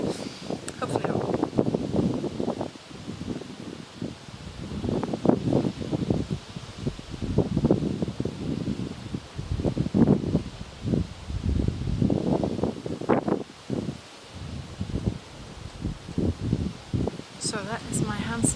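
Wind gusts through a garden, rustling leaves and buffeting the microphone in a steady, rough rumble that continues for the whole stretch, with a voice faintly present underneath.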